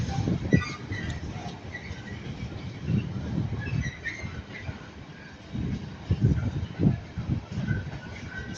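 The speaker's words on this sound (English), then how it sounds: "here comes Transport for Wales, your best Transport for Wales train." Transport for Wales train with a Mark 4 coach set led by a Class 82 locomotive at Ardwick, rumbling past at moderate distance with low pulsing wheel noise and faint squeals, no talk over it.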